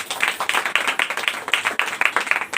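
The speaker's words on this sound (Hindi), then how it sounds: "ताली बजा दीजिए इनके लिए" A congregation at a Hindi-language prayer service claps together for two women, one with her husband, a steady, even wash of many hands clapping with a slight pulse, fairly loud and alone.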